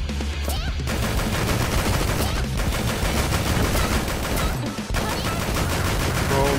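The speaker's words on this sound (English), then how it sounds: "Why is my robot shooting?" Rapid, continuous automatic gunfire from a robot ally in the video game Dead or School, loud and dense, rattling on for several seconds with only brief breaks.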